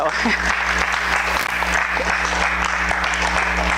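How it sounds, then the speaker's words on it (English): An audience at a coalition meeting gives a round of applause, a dense, steady wash of many hands clapping, loud and close throughout. "Please help me give them a round of applause."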